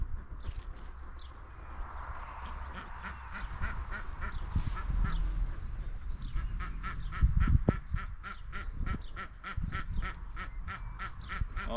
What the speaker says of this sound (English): Alright, ducks.